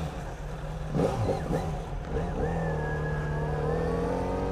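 A Yamaha XJ6 fitted with trail tyres rides off-road, its engine note climbing and then holding a steady rising drone as it accelerates, moderately close and alone.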